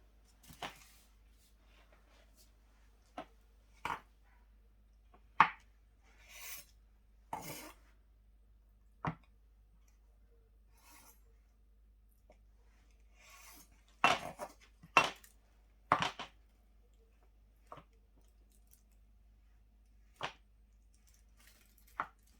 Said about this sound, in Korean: 두부를 썰어 보겠습니다.